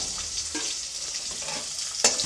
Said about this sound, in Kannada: ಈರುಳ್ಳಿನ ಸಣ್ಣದಾಗಿ ಕಟ್ ಮಾಡಿ ಹಾಕ್ಕೊಳ್ತಾ ಇದ್ದೀನಿ